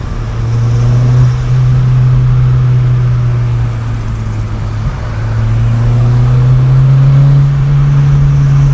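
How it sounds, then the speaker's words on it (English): A Renault Clio Williams with a 2-litre 16-valve four-cylinder engine drives through Japanese traffic, its steady loud in-cabin engine drone rising and falling slightly in pitch as it accelerates and eases off. "Just listening to that little 2-litre 16 valve, all 150 horsepower of her."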